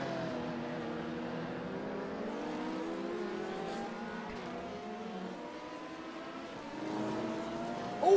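LMP prototype race cars at Daytona sweep by on the inside at the horseshoe, a steady sustained engine drone with rising and falling pitch, moderately loud and continuous, with no talking.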